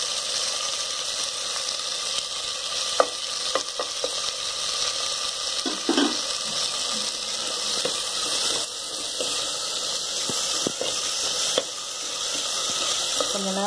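Onion, garlic, tomato and eggplant sautéing in a pan for a broad bean and eggplant curry, a continuous bright sizzle with scattered scrapes and taps of a spoon, steady and close.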